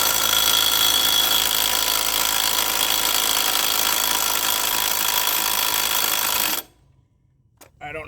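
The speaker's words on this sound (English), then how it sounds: "I don't have the strongest of impact wrench, but let's take that bolt off" Impact wrench removing a 5/8 pulley bolt on a Troy Bilt Bronco, a loud, continuous high-pitched buzzing rattle for about six and a half seconds that cuts off abruptly into near quiet.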